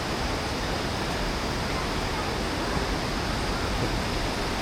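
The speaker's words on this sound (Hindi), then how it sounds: "पानी का फ्लो अच्छा खासा तेज़ है।" The Banganga river near Katra flows fast after heavy rain, giving a loud, constant broadband roar of rushing water with no breaks and no voices.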